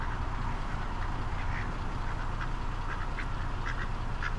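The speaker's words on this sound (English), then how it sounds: "Man, that is the fattest mallard I've ever seen." A fat mallard duck quacks repeatedly in a steady series of nasal calls over constant outdoor background noise, fairly close and moderately loud.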